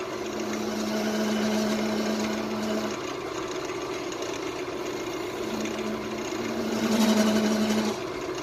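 A Harbor Freight lathe turns an epoxy resin shifter knob, producing a steady motor hum with a higher whirring tone and intermittent scraping as the cutting tool bites the resin, close and continuous without speech.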